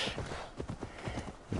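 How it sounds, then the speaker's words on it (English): Horse hooves clip-clop in a steady, close rhythm in a Viking video game set in ancient England, the soft thuds repeating evenly throughout with no talking. "Usually my horse is like that. It's coming behind me and scared the living shit out of me."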